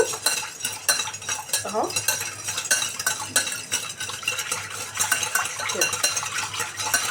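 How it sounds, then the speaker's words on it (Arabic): Sugar is stirred in a pan until it dissolves, with a spoon scraping and clinking against the metal in a continuous gritty rhythm, close up, and a voice briefly speaks over it. "نفضل نقلب كده لغايه لما السكر يدوب"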